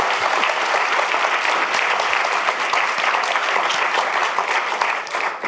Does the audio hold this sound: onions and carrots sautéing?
no